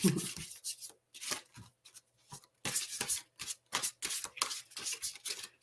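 Large oracle cards are shuffled lengthwise in quick repeated bursts, a crisp riffling and rubbing rhythm, close up with short pauses between passes.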